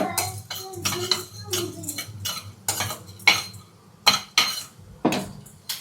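Roasted coriander seeds are scraped out of a pan into a bowl, with a run of sharp metallic clinks and scrapes of a spoon against cookware, loud and close.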